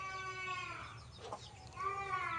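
Chicken clucking in short tonal calls, quiet and fairly close, with a brief break in the middle before the clucks resume.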